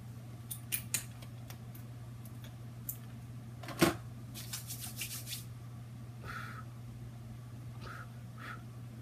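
Tape-sealed lid being pried and pulled off a packed plastic container: a few sharp crackling rips and scrapes in short bursts over a steady low hum, close and fairly quiet, with no talking.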